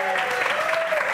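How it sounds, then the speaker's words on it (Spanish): Short burst of steady applause from a crowd, dense clapping with a faint tonal sound running through it. "Un aplauso, por favor."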